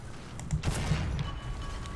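Tank cannon fire in a World War II tank video game, a German 75 mm gun striking an enemy tank, a loud booming blast with a rumbling tail over game background noise.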